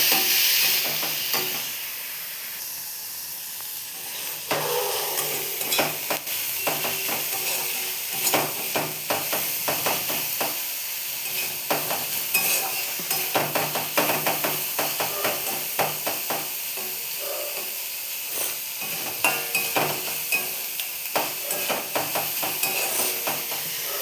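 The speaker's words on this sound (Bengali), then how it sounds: "এগুলো একটু ভাজা ভাজা করব, তারপর এক এক করে মশলাগুলো দিয়ে দেবো" Ingredients fry in a hot pan while being stirred, a constant bright sizzle broken by frequent scraping and clinking strokes of the utensil against the pan, fairly close and continuous throughout.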